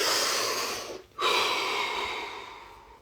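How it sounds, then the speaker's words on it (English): One deep breath, a long airy inhale, a brief pause, then a long slow exhale close to the microphone, with no talk. "Deep breath."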